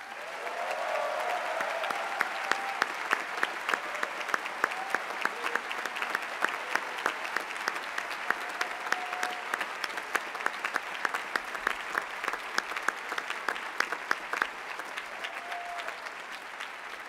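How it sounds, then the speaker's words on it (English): Commencement audience applauding parents and families, steady dense clapping from a large crowd held at an even level for the whole stretch, with a sharper claps standing out in the mix. "Let's all give our parents and families a round of applause."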